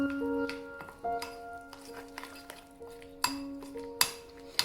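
A spoon mixes raw mango chutney with salt and coarse ground peanuts in a metal bowl, striking the sides in repeated bright, ringing clinks at an uneven stirring rhythm, close and clear with no talking.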